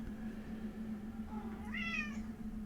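A single cat meow rises and falls near the end, fairly clear against a steady low hum in the background.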